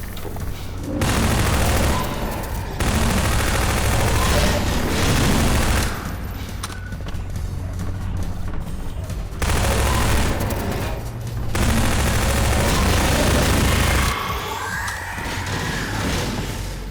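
Shotgun fire in the shooter game Baryonic Predicament, a series of heavy booming bursts in rapid clusters separated by brief quieter gaps, loud and close with no talking.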